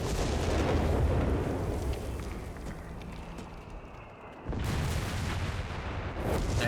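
Vesper artillery bombardment in Company of Heroes 3, a dense sustained rumble of distant shelling and battle noise that dips briefly, then surges back loud.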